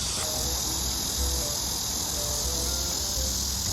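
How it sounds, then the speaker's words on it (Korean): A dense, continuous high-pitched buzzing drone of cicadas on a mountain hiking trail fills the air, steady and loud throughout without pauses. "매미가 왜 이렇게 많아?"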